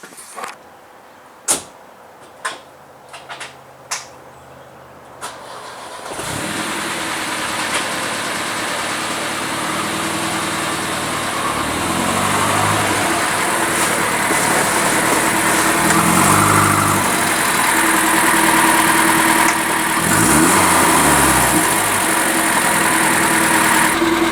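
A few clicks and clunks, then a Volvo engine with an upgraded IPD exhaust starts and settles into a steady, rumbling idle with a deep exhaust drone, close and continuous.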